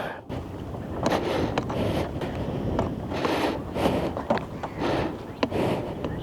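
Gusty wind blows beside the Jamuna river at Sariakandi, where rows of boats line the bank, buffeting the microphone in rough, uneven bursts over a steady outdoor rush.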